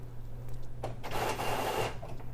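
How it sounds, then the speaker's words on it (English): A new label printer in a small studio feeds and prints a shipping label, a short mechanical whir and rattle lasting about a second over a low electrical hum, preceded by faint clicks. "Now this is a new printer and I don't know why it has this glitch."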